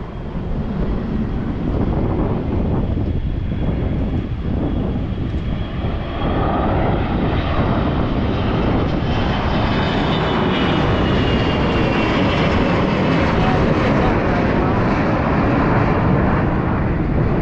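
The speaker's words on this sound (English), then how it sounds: "I think it's a private jet from the Southwest" A private jet roars past at Hollywood Burbank Airport, its broad engine rumble and hiss steady and loud throughout, swelling slightly as it nears, with some wind buffeting the microphone.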